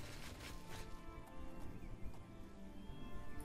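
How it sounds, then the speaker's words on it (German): Horses ride off in the video game The Elder Scrolls IV: Oblivion, with faint repeated hoofbeats and clip-clop amid a busy, low-level game soundscape. "Die beiden reiten los. Wir haben ja auch ein Pferd."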